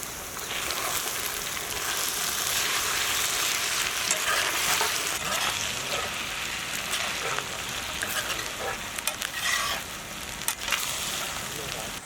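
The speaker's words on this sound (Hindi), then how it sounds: "जिंजर गार्लिक पेस्ट ऑयल में अच्छी तरह भुने गए बाद इसी में हम लोग स्लाइस टमाटोस ऐड करेंगे।" Sliced tomatoes sizzle steadily in hot oil with ginger garlic paste for a Mumbai-style chicken tawa pulao, a continuous bright crackle with occasional stirring scrapes.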